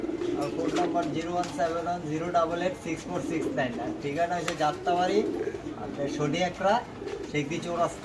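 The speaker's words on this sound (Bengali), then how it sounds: "অনেকগুলো কবুতর আছে এখানে আছে" Pigeons for sale at a pigeon market coo repeatedly near and far, their soft burbling calls overlapping throughout, with bird chatter and a steady background.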